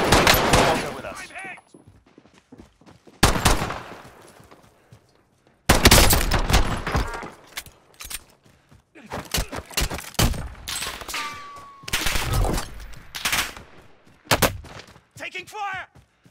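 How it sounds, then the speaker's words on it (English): Gunfire rings out in a Call of Duty Warzone battle royale quads match, with loud clusters of shots and bursts spread across the stretch, separated by quieter gaps and brief voice callouts. "Taking fire!"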